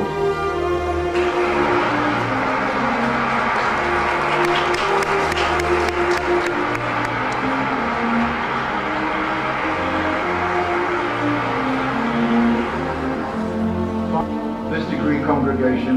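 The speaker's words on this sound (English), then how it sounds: "with a round of applause" Graduation ceremony audience at Birmingham University giving a long, sustained round of applause, a dense wash of clapping from a large hall that carries on for many seconds with voices faintly mixed in.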